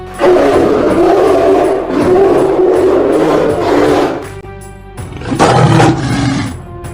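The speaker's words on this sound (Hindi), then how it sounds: "शेर की आवाज कहाँ से आ रही है? भाई लगता है यहाँ आसपास में शेर है। हाँ, भालू की आवाज भी आ रही है।" A lion roars in long, loud, rumbling bursts, with a second wild animal roar, meant as a bear, breaking in near the end; the calls come close and fill the scene with no talking.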